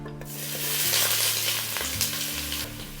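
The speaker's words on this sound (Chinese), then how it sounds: "放入1把冰糖，炒至融化且呈焦糖色后，放入鸡块翻炒" Chicken pieces stir-fried in peanut oil with caramelized melted rock sugar in a hot wok, a steady loud sizzle with scraping stir strokes throughout, no voices.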